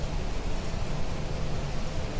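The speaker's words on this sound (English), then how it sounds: "I think it's raining." Steady, dense rainstorm in The Planet Crafter video game, a constant broadband hiss of falling rain with no breaks or voices.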